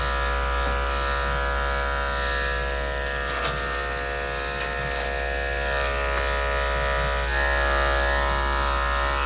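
Electric clippers trim a matted puppy's coat with a loud, steady close-up buzz that runs without a break.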